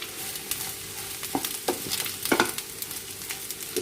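Bitter gourd pieces are stirred and fried in a pan: a soft, steady sizzle with a few sharper scraping knocks of the spoon. No one speaks.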